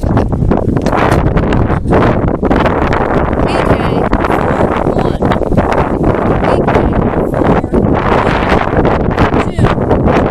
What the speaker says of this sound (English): but it's also extremely windy out here.